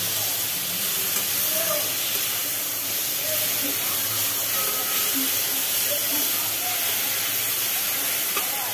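Lauki and shrimp curry cooking in a covered pot, with steady steam hiss and soft sizzling filling the scene after the lid comes off, close and continuous with faint clinks.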